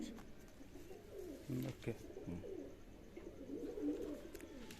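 Pigeons for sale cooing in a loft, soft low throaty coos repeating in short bursts among a flock, close by, with someone briefly speaking over them.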